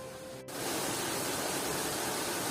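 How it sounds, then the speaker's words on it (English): Small waterfalls in a park at Scarborough North Bay: a steady, even rushing of falling water that begins abruptly after a short pause and holds constant throughout. "There are a number of little waterfalls all over the park."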